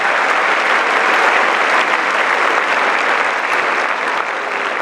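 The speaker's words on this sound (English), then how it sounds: "Again, let's give the class of 2016 another round of applause." Loud, sustained applause for the graduating class of 2016 at a graduation ceremony, a thick wash of many hands clapping at once that holds steady for several seconds and eases off slightly at the end.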